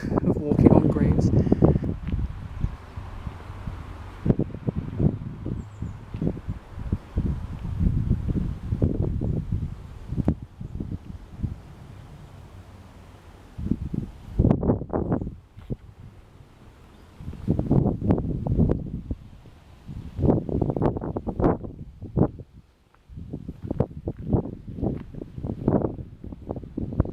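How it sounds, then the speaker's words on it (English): Strong wind buffets the microphone on a high hilltop at St Mary's churchyard in Crich, rumbling in gusts beneath a person talking throughout. "So yes, it's incredibly windy up here because we are very high up."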